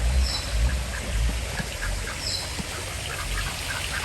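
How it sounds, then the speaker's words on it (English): Ducks quacking at a zoo pond in Kingston, Jamaica, with scattered quacks over a steady outdoor background of water and ambient noise, moderately distant. "So those are ducks."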